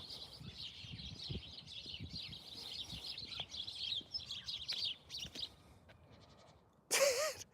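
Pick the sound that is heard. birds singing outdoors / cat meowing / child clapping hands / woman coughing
birds singing outdoors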